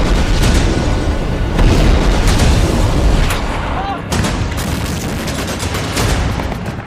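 Loud, continuous barrage of booms and gunfire from bombardment in the Israel-Hamas war, with repeated heavy blasts layered over dense crackling shots throughout.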